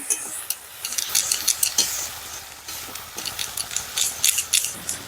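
Green and dried chilli paste frying lightly in a pan for a crab curry, with a soft steady sizzle under repeated scraping and stirring strokes of a spatula, close and moderately loud.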